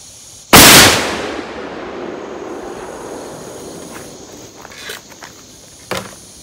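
A single loud gunshot from an H&R 32 gauge shotgun firing a slug at an outdoor range, a sharp heavy muzzle blast with a long ringing decay, followed by a few faint clicks and small knocks.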